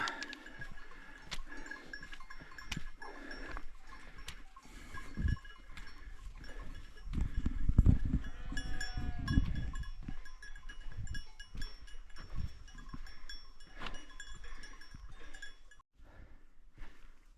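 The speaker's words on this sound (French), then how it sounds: "Bonjour les moutons." A flock of sheep grazing at a mountain refuge in the Pyrenees in fog, with bells clinking steadily and occasional bleats over soft outdoor ambience, moderately distant, and a louder rustling stretch partway through.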